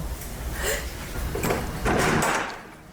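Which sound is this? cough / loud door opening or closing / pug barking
loud door opening or closing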